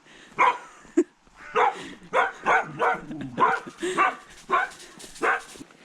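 A dog on a Scottish walking trail gives about a dozen close, loud barks and yips in irregular bursts, with no talking.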